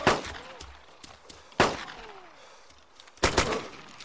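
Three sharp gunshots ring out in the survival video game DayZ, spaced about a second and a half apart, each loud with a short echoing tail, separated by quiet background and faint scattered clicks.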